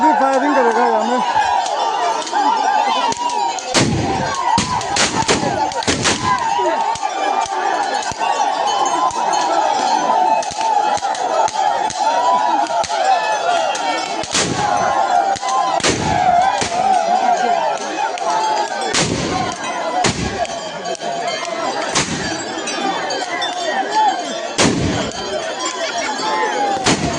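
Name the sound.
gunfire at Wancho Oriah festival, Arunachal Pradesh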